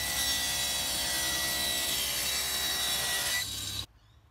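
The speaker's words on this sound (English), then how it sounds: "I then trimmed them down to final size by ripping the same amount off each side" A wooden board being ripped lengthwise with a saw, a loud continuous buzzing cut with a whining tone that drops slightly near the end before stopping abruptly.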